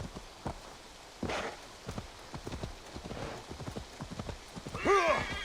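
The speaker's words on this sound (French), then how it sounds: "je vous fais une petite session équestre à travers les bois" Horse hooves clip-clop through woodland in Assassin's Creed Valhalla, a steady trotting rhythm at moderate distance, with a brief neigh near the end and light rain-like ambience.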